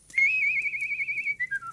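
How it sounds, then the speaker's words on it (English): A soldier whistling a short tune alone, a clear bright warbling note held steadily before dropping through a few quick descending notes. "the soldier stood and whistled his ruby whistle"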